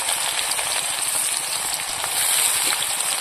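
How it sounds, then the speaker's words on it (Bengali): Onion and garlic frying in a pan give a steady, dense sizzle that crackles evenly throughout with no pauses, close and moderately loud, with no talking. "এবার এগুলো একসঙ্গে ভেজে নেব"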